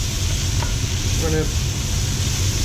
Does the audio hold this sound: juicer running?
no